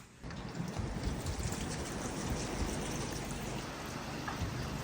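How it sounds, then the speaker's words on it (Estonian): Steady rain falls in a continuous hiss with dense droplet patter, heard near and fairly loud for the whole stretch without any voices, outdoors on the way to an airport trip. "Normilt sajab."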